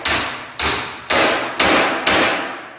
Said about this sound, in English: use your brass hammer or a dead blow and just drive straight down onto it until it stops